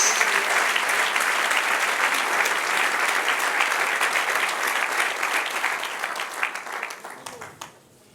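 A church congregation bursts into applause during a sermon, a dense wash of clapping that gradually thins and fades out toward the end.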